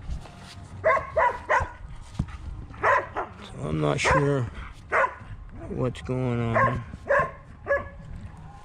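Several sharp dog barks and yips come in bursts throughout, close by, mixed with a person talking over them.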